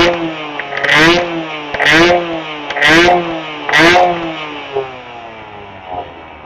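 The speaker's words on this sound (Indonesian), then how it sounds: "Kalau untuk suara mesin sih bisa gue bilang ini lembut, teman-teman, lembut banget." A two-stroke motorcycle engine running Castrol A747 oil revs up close in four sharp, evenly spaced bursts, each dropping back to idle, followed by two smaller blips.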